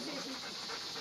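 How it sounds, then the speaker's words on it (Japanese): A Shiba Inu dog pants in rapid, breathy bursts close to the microphone, a steady airy hiss lasting about a second with no clear voice over it. "こいつ柴犬だからって言ってんだ"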